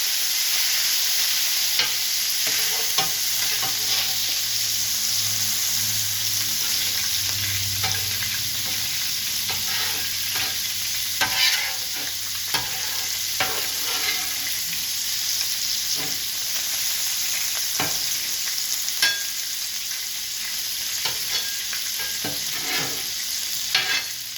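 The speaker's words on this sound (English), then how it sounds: "Now I can actually work my beef around a little bit more." Beef sizzling on a buttered steel griddle while being worked around with a spatula, a steady frying hiss punctuated by frequent scraping clicks of the tool, close and moderately loud with no talking.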